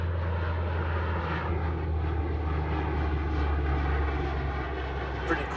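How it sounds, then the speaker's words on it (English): An old cargo plane flies over a house, giving a steady, droning engine roar that holds for several seconds at moderate loudness. "Pretty cool old cargo plane of some sort flying by my house"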